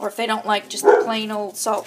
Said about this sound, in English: Sorry for the dogs. I've got two beasties.